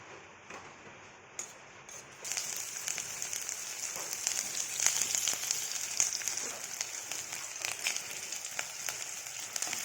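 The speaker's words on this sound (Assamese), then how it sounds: "পিঁয়াজখিনি অকণমান মৰহা হোৱালৈকে ভাজি ল'ম" Steady, bright sizzling of onions frying in hot ghee in a kadhai, starting quieter and then rising into a loud, continuous crackle that lasts throughout.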